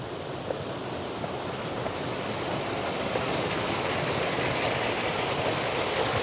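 A waterfall roars steadily nearby, a dense, unbroken rush of falling water with no voices.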